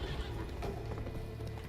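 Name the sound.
horse galloping and neighing in Witcher 3: Blood and Wine video game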